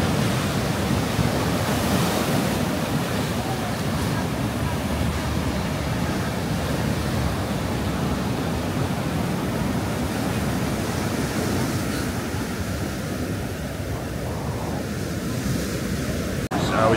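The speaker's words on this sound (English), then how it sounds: "You see the waves are really crunching against the sea defences." Storm waves surge against the sea defences at Blackpool in a steady, heavy roar of surf with rushing wind buffeting the microphone, continuous and close throughout.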